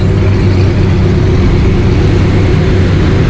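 A sports car engine produces a loud, deep, continuous rumble, steady and close throughout with no distinct rev peaks and no talking.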